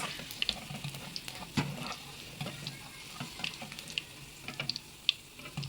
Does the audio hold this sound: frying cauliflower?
yes